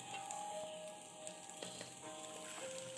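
Chicken pieces for fried rice sizzle quietly in a hot pan, a faint steady crackle with scattered small pops and ticks.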